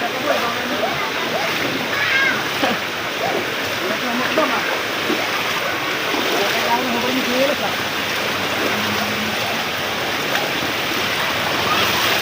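Flood water flows slowly and steadily through a deep flooded street in Bulacan, a continuous wash of sloshing and splashing close by, with people talking over it throughout.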